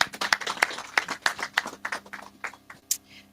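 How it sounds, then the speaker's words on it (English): A small audience claps for a speaker at a recycling-economy design workshop in Kenya: a loose, uneven patter of close hand claps that thins out and fades within a few seconds. "He deserves a clap, doesn't he?"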